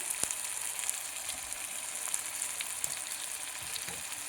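Mutton pieces fry in a pan as their released water cooks off, a faint, steady crackling sizzle with small scattered pops and occasional light scrapes.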